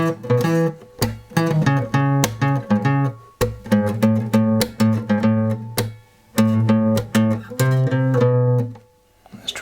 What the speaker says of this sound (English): now you can add a slap on beats 2 and 4